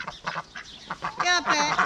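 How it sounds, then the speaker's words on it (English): A duck quacks repeatedly in close, loud, rasping bursts, several calls in quick succession with brief gaps, heard alone without talking. "Come on, you silly duck."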